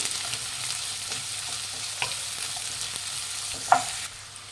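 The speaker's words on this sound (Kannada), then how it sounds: "ಫ್ರೈ ಮಾಡಿ, ಎಣ್ಣೆ ಚೆನ್ನಾಗಿ ಫ್ರೈ ಮಾಡಬೇಕು." Sliced medium onions fry in hot oil in a pan, a steady close sizzle with occasional stirring scrapes and one sharp clink near the end before the sound drops lower.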